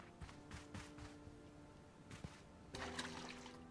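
Plants watered in the video game Paleo Pines: a few soft, splashy water pours come in short bursts over quiet, tonal game music, with a fuller splash near the end.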